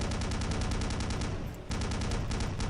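Rapid automatic gunfire from Return to Castle Wolfenstein, a steady loud burst of repeated shots with a brief pause midway before the firing resumes, with no talk.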